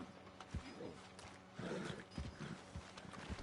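Horse in Red Dead Redemption 2, soft hoof clops and a faint snorting whinny, low and quiet without talk.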